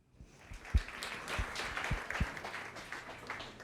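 Audience applause at an opening-night film screening, a moderate scattering of claps with a few sharper hand claps standing out, rising slightly then holding steady.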